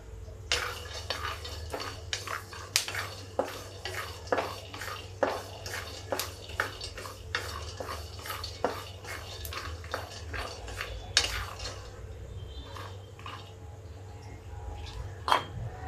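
Peanuts are dry-roasted in a pan without ghee, with rapid scattered clicks and scraping rattles as they are stirred and tossed. The sound is close and moderately faint, and no voice is heard.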